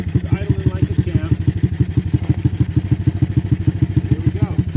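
A Honda ATC200S ATV engine idles steadily under restoration, a loud close single-cylinder putter with an even, fast pulse throughout and no voices over it.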